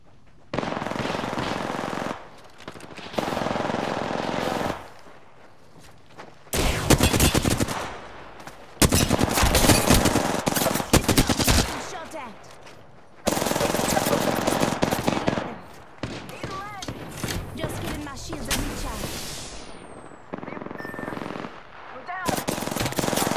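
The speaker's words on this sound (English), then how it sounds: "Listen up, I'm getting shot at." Automatic gunfire rattles in loud bursts during an Apex Legends match, with repeated volleys separated by short pauses and a voice talking between them.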